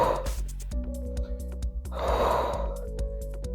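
A person doing a chair workout exercise breathes out hard, with a sharp gasp at the start and a longer breathy exhale midway, heard close over quiet background music.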